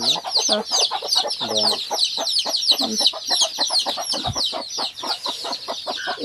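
A farm hen clucks steadily while her eight young chicks peep in rapid high chirps close by, a busy, continuous backyard flock sound with no talking.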